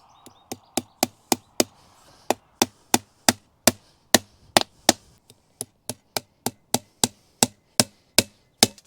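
A new hammer pounds wood during an electric fence wire install in a long, steady run of sharp, evenly spaced blows, loud and close, with only a brief pause midway.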